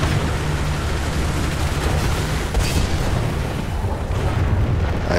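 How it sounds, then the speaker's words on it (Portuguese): Artillery strikes land in a War Thunder tank battle, a dense rumbling barrage of booms and blasts rolling continuously and loudly, with no clear gaps or voices. "Vamos jogar uma artilharia ali pra apavorar o menino."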